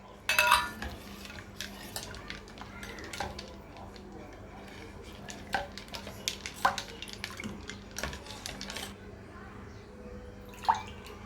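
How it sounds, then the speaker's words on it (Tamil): Aloe vera sharbat drink with lemon and ice being mixed, a spoon clinking and scraping irregularly against a glass, close and fairly faint, with some low background voice. "அடுத்து சர்பத்தை விட்டு கலக்கணும்."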